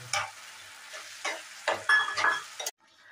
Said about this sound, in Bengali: টমেটোটা দিয়ে ভালো করে ভেজে দিয়েছি